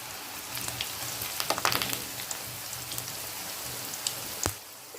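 Cauliflower pieces with curry leaves fry in hot oil at a roadside stall, making a soft, dense crackling sizzle with scattered spits and pops and one sharp clack near the end.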